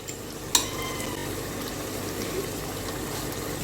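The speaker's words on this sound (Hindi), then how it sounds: "जब ये ऑयल ऊपर आ जाए तब मैं इसमें पानी ऐड करूँगी" Masala frying in a pan for a Bannu-style painda dish, a steady close sizzle and bubbling with one sharp splash-like burst near the start as water is poured in over potatoes.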